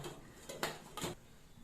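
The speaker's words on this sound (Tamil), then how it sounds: "இப்போ மூடி போட்டுக்கலாம்" A lid goes onto a cooking pot of boiling eggplant: two light metallic clinks about half a second apart, quiet and close in an otherwise still kitchen.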